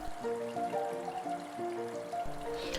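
Water trickles and splashes down a small garden stream waterfall on a homemade water feature fed by a pump, a steady close babble with bright tonal ripples and no voices.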